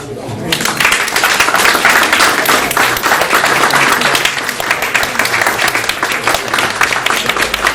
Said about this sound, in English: we give them one more round of applause